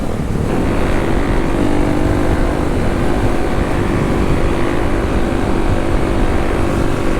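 A Kawasaki KLX dual sport motorcycle drones steadily under way, its engine hum blended with heavy wind rush against the microphone, loud and unbroken throughout.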